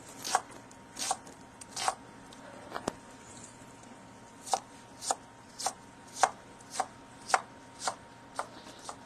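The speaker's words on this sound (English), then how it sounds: "So what we're going to do, we're going to chop some onions." Knife chopping onions on a cutting board during a live market cooking demo: a series of crisp, evenly paced cuts, a short burst, a pause, then a longer steady run of strokes, close and fairly quiet.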